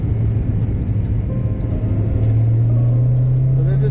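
Car engine on a warm-up lap at Autódromo Internacional do Algarve, a steady loud rumble that rises in pitch as the car accelerates, heard from inside the cabin.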